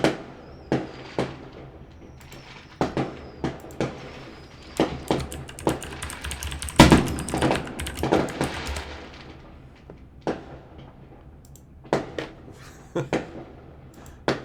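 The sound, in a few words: fireworks exploding outside during Canada Day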